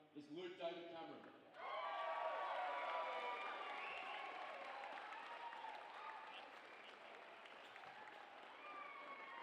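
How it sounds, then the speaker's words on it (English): A brief voice opens, then a crowd's sustained applause swells and holds evenly, fairly distant and roomy, for a Best on Ground medal winner at a wheelchair football league grand final. "Round of applause for Luke."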